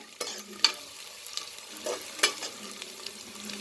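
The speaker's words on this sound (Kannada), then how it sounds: "ನೋಡಿ, ಫ್ರೈ ಆಗ್ತಾಯಿದೆ, ಒಳ್ಳೆ ಪರಿಮಳ ಬರ್ತಾಯಿದೆ." Green chillies and onion fry in a pan with a soft sizzle, broken by several sharp scrapes and clinks of a spoon stirring at uneven intervals. Nobody talks.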